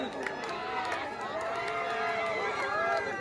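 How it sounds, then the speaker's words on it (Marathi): Supporters cheer at a kabaddi match as a steady, loud crowd roar of overlapping voices and shouts. It carries on without a break, and a commentator talks over it. "आणि आता मात्र जल्लोष पाहायला मिळतो जयनमान झरेवाडीच्या समर्थकांमध्ये"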